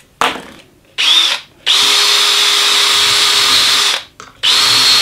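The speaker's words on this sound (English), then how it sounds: "So if I put it in my drill" Electric drill fitted with a centering drill bit, whirring in several close, loud bursts, with short starts and one long steady run before stopping and spinning up again.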